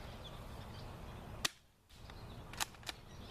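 A spring airsoft gun fires, producing sharp, dry snaps: one crisp crack, a short hush, then two more quick snaps close together, all fairly faint against quiet surroundings with no speech.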